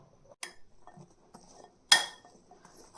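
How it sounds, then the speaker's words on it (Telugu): Eggplant pieces being mixed by hand with salt, chili, mustard powder and garlic in cold-pressed oil for a pickle, heard as a few scattered metallic clinks of a spoon against a vessel between soft, quiet shuffling. "మన వంకాయ ముక్కలు కూడా వేసుకుని కలిపేసుకుందాం."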